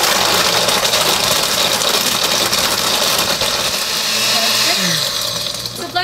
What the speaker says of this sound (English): So blend for about 15 seconds.